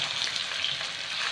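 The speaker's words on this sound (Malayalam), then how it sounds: "ചൂടായ എണ്ണയിലേക്ക് നമ്മൾക്ക് പാവയ്ക്ക ഇട്ട് വറുത്ത്" Bitter gourd pieces fry in hot sesame oil, giving a dense, steady, close-up sizzle that holds at an even loudness throughout, with no voices.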